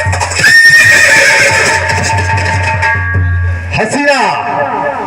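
A horse whinnies loudly in a nautanki folk stage play by a music party from Raebareli district, the neigh rising and falling over a steady low drone and stage noise, with a second shorter whinny near the end.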